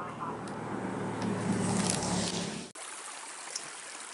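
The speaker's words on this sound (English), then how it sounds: "the water just keeps coming up from the ground and keeps running down to the river." Spring water welling up from the ground and flowing down toward a river makes a steady, close rushing trickle, then cuts off abruptly into quieter outdoor ambience.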